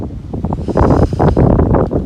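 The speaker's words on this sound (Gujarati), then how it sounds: "હા ઠંડો પવન" Gusty cold wind ahead of rain on a rural farm path buffets the microphone in rising and falling rushes, loud and close, with no voices.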